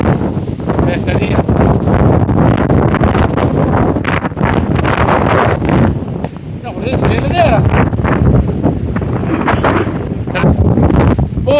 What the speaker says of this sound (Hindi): बहुत तेज़ हवा है, बहुत तेज़ हवा।